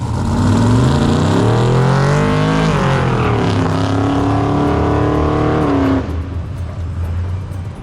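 A loud drag car engine without a power adder roars as it accelerates hard down a street, pitch climbing through gears, then cuts off abruptly near the end, leaving a lower idle rumble.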